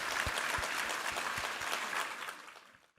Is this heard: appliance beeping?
no